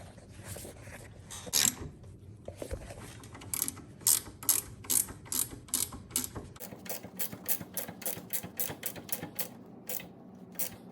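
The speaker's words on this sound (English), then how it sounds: "Now we're gonna tighten that down onto that." A ratchet tightens a nut on a motorcycle crash slider, giving rapid bursts of sharp, close clicking in uneven runs that settle into a steady regular series of clicks, with no voices.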